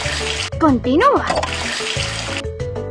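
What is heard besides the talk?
water tap running in cartoon video game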